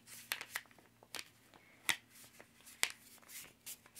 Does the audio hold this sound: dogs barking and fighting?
no